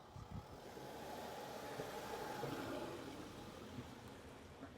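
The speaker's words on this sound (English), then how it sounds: "God, I've never seen so many cars drive up and down here." Cars drive up and down a street in Bermondsey, south east London, a faint, steady wash of engine and tyre noise from passing traffic with no voices.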